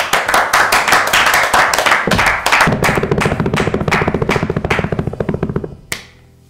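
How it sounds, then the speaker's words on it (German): Rhythmic synchronized clapping from a concert audience, loud and close, each clap landing in steady time for several seconds before the clapping gradually fades out. "der Applaus jetzt gehört voll euch."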